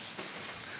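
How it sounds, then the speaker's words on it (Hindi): Heavy rain in Islamabad falls in a steady, dense, close hiss of droplets with no voices. "ओह बारिश तेज़ हो गई है।"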